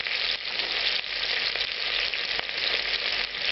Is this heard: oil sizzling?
yes